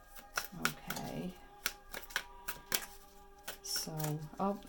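Tarot cards being shuffled, sharp irregular snaps and riffles at close range, mixed with intermittent talking.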